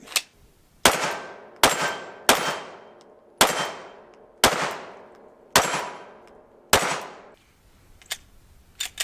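Gunfire rings out as a final magazine is emptied at a prosthetic leg: seven loud, sharp shots spaced about a second apart, each trailing a ringing decay, followed by a few fainter clicks.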